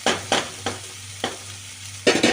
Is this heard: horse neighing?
no